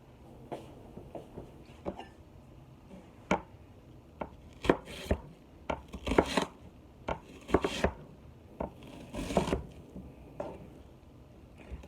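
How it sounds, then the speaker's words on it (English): An onion being peeled by hand for salmon cakes, heard as a string of sharp, close crackles and papery snaps, some in quick clusters and others spaced out, with no talking. "so I'm just going to peel the onion."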